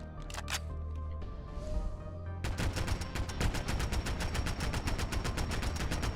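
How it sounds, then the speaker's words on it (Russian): Modded weapon firing on a shooting range in Fallout 4, beginning with a few separate loud shots, then a long rapid automatic burst of evenly spaced reports, close and alone. "давайте перейдем на стрельбище и испытаем это оружие в бою"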